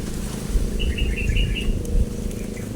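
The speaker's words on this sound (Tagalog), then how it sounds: "Klase mga ibon yun." Several birds chirp in quick, high bursts over a loud, low rumbling background, with occasional soft flutters.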